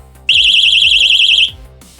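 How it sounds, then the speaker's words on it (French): A small shock and vibration alarm sounds one continuous, piercing, very high-pitched warbling beep lasting about a second, loud and close, over a low rhythmic background thump. "Vous les activez, ils vont biper."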